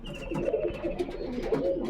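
Fancy Punjabi pigeons kept as show birds coo continuously close by, with soft overlapping throaty calls forming a steady murmur.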